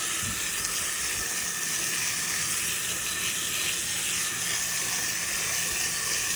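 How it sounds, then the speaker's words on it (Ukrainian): Water spraying onto a roselle plant in a Florida garden, a steady hiss of hose spray, close and continuous, with no talking. "Звичайно, полиємо."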